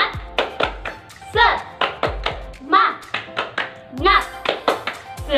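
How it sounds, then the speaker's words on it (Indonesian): Rhythmic group hand clapping in a classroom-style semangat cheer, quick patterned claps repeating steadily and close, with children's and adults' voices chanting over the claps. "marilah kita tepuk semangat"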